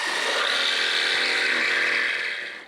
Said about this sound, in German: Und das sägen wir dann einfach mit der Stichsäge rund.